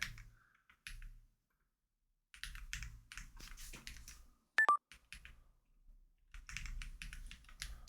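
Bursts of keyboard typing with quiet gaps, plus a couple of sharp electronic beeps in the middle.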